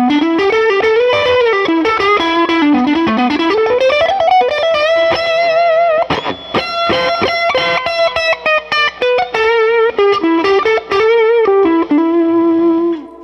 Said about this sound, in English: those are your clean and distortion tones